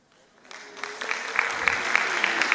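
Audience at a Brazilian training event in Campina breaks into applause, starting from scattered claps and swelling into steady, moderately loud clapping from a seated crowd.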